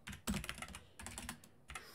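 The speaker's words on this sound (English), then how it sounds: "if I can type" Keystrokes on a computer keyboard while writing TypeScript code, a quick burst of close clicks followed by two shorter clusters, fairly quiet with no talking.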